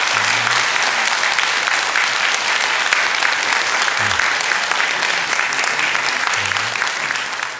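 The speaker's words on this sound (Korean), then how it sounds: "우리 한번 큰 박수로 우리 한번 환영하도록 하겠습니다" A church congregation at a Sunday morning service bursts into loud, sustained applause, many hands clapping evenly throughout, with a few low voices faintly underneath.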